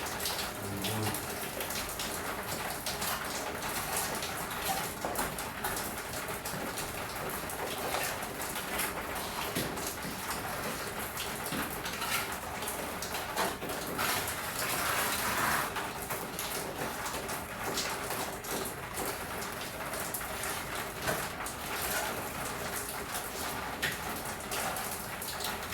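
Steady rain falls continuously, a dense even patter of drops on surfaces close by, with a faint bird call now and then and no clear speech over it.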